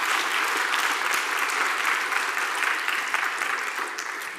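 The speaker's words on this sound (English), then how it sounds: "Okay, so round of applause." Dense, steady applause from a conference audience after a Lambda Day talk, broad and continuous at close range, tapering slightly toward the end with no talk over it.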